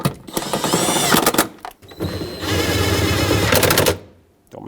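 A power tool snugs up bolts on a 2008-2020 Dodge Grand Caravan in two loud, close bursts of rapid rattling impacts, each lasting about a second or two with a short pause between.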